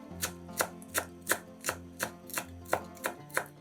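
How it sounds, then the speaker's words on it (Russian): A kitchen knife chopping a bunch of fresh parsley on a board for zucchini soup: about ten steady, evenly spaced cuts, crisp and close, with no voices. "Пучок петрушки измельчаем ножом."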